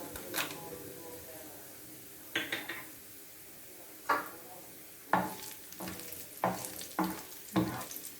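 Cumin seeds and black pepper hitting hot oil in a dal fry tempering, with short sizzling bursts and spoon scrapes against the pan recurring every second or so, fairly faint and close.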